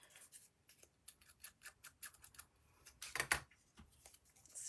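Scissors snip and rough the cut edges of layered card during papercraft card making, a rapid run of small crisp snips, close and fairly quiet, with no talking.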